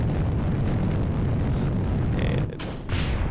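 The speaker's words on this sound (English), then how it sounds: "nice explosion" A rocket blows up in Kerbal Space Program, heard as a sustained roaring rumble that cuts out abruptly, followed by a brief burst of noise.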